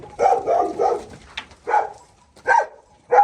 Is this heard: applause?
no